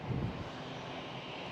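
A KLM Boeing 787 airliner at Amsterdam Schiphol gives off a steady, distant jet roar, broad and fairly faint, with some wind buffeting on the microphone.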